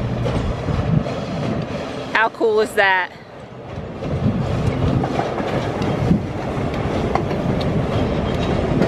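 A small museum excursion train runs beneath the listener with a steady rumbling roll and a brief squeal of wheels. Someone speaks excitedly over it.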